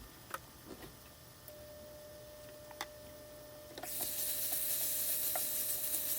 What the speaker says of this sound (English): Just adding my bacon. It's like a pork belly actually